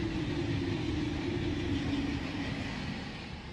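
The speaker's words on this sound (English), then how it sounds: "That's what 300 kilometers an hour looks like." A high-speed train on UK High Speed 1 passing at 300 km/h, a loud continuous roar of rushing wind and rail noise with a steady low hum, held close and fading slightly at the end, with no talk.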